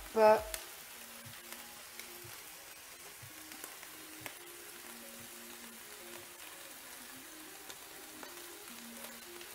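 Meatballs fry in olive oil in a pan, a soft steady sizzle with faint crackles throughout and a brief clatter at the start, all quiet and close.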